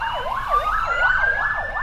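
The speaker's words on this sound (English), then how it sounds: "Oh, it's ambulance!" An ambulance siren wails in a steady rising-and-falling pattern, loud and close, with road noise beneath and no talking.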